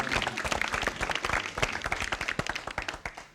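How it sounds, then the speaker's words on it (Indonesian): Quiz show studio audience clapping for the contestants, a lively patter of many hands with sharp individual claps standing out, steady for a few seconds with faint background talk. "Ya tepuk tangan buat para ini"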